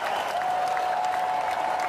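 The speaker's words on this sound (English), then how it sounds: "You're now applauded and cheered onto the 16th tee." Golf spectators at the Masters clap steadily around the 16th tee, a dense, even wash of applause heard from a short distance with no distinct voices standing out.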